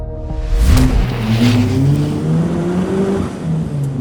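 The engine of a second-generation Ariel Nomad 2 off-road car revs up and pulls hard, a loud, rising, rasping note with a gear change partway through while driving.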